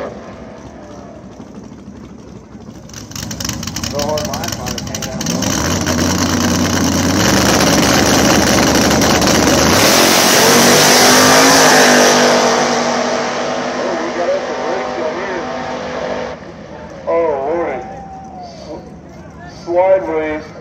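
Turbocharged drag racing cars launch and accelerate hard down the strip at a no-prep and hard-tire event at Ohio Valley, the roaring engines building to a loud, sustained howl before fading, with a commentator talking over the noise.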